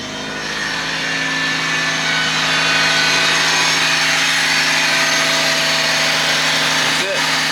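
A 1997 Honda Civic Coupe EX engine runs steadily just after starting, a loud, continuous droning hum with a constant pitch that holds unchanged throughout.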